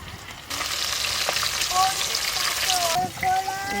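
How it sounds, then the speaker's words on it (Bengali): Rohu fish pieces frying in a pan in a home kitchen, a steady loud sizzle that starts abruptly and carries on with faint clinks and a brief dip near the end. "মাছ ভাজা হয়ে গেছে"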